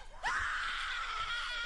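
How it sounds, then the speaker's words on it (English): A long, high, piercing scream bursts in after a short murmur and holds loud and strained for over a second, from a lost Mickey Mouse cartoon. "the murmur turned into a blood-curdling scream"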